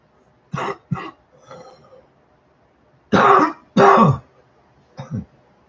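Several harsh coughs and throat clearing come in short bursts with pauses between, close and fairly loud, with no speech.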